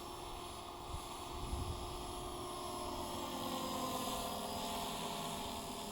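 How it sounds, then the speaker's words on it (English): A scale RC model of a Hughes MD 500E helicopter flies gently in gusty wind, giving a continuous steady whine and rotor drone at moderate distance, faint and unbroken throughout, with no talking. "It's a scale helicopter and I'm just getting it to fly around nice and gently."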